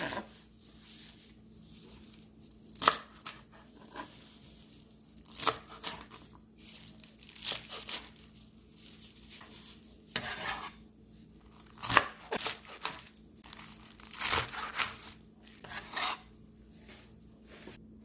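Young radish and its leafy greens being cut into pieces for kimchi, with repeated crisp chops, leafy rustling and crunches on a board, nearby and moderately soft in an irregular rhythm.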